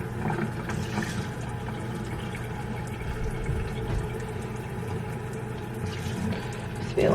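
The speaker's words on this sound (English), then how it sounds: "So then I usually just rinse the beans and then add more water." Canned beans rinsed under a running kitchen tap: a steady, even rush of flowing water, close and moderately loud, continuous throughout with no voices.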